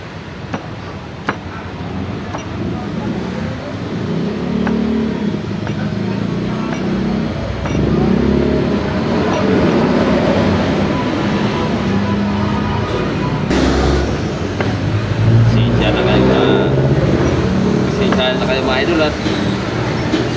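Trucks rumble past for a long, continuous stretch, loud and close, with a low engine drone and occasional clatter.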